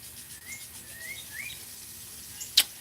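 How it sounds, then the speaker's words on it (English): Wild birds chirp outside, faint and distant: a few thin rising calls scattered over quiet outdoor ambience, with one sharp, brief chirp or click near the end. "the birds just want to say hello. Can y'all hear them?"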